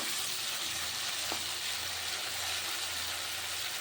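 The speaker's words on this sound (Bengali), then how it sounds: "এখন কড়ার মধ্যে এভাবে তিলটা রান্না করছি" Sesame seeds, mixed with green chilli and salt, fry in hot refined oil in a wok with a steady, dense, close sizzle and one faint stir partway through, no voices.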